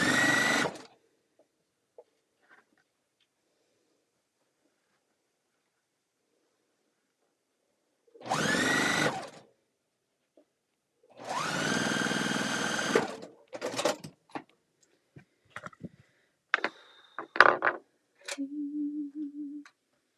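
A sewing machine stitches a quilt block in several separate runs, each a close, steady mechanical whir lasting a few seconds, with quiet pauses and small handling clicks between bursts.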